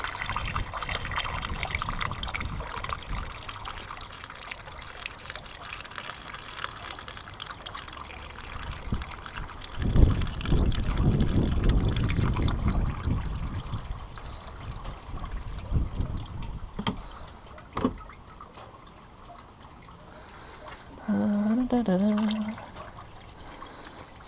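Water poured into the coolant system of a salvage Vauxhall Corsa VXR Nurburgring Edition, a steady trickling pour with louder splashing surges midway, interrupted by a brief humming tone near the end.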